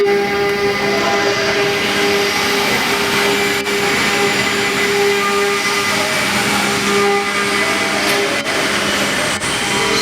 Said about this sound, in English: The machine will be moving.